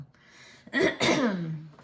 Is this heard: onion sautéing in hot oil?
no